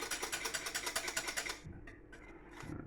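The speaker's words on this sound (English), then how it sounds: "Really shouldn't be using a whisk in a non-stick pan," A whisk beats rapidly against a non-stick pan while a coffee semifreddo custard thickens, making a fast, steady, close scraping and clattering rhythm that breaks into a few scattered taps near the end, with no talking.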